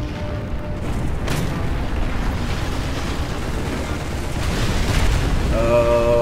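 Artillery fire in War Thunder pounds around a tank, producing heavy, continuous booming rumble with a couple of sharper blasts standing out, loud and close, while a player talks over it.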